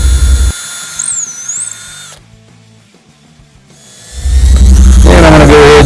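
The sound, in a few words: power drill pre-drilling holes in plywood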